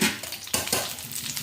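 Tempering sizzles in hot ghee in a pan for lemon pulihora with turmeric, with a sharp clank of the stirring spoon partway through and a steady frying hiss throughout.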